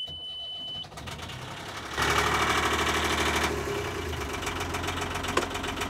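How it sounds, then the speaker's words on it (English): Yanmar marine diesel on a boat cranks briefly, catches and settles into a steady, loud knocking idle, with a sharper surge of revs early before it evens out. "we gotta fire up the engine"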